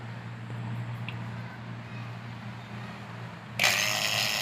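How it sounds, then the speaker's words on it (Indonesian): An air-conditioner vacuum pump, running smoothly while an LG dual inverter unit is installed, gives a steady low hum that carries on evenly before a sudden louder rush of hiss near the end. "Nah, ini suara vakum yang lembut ya."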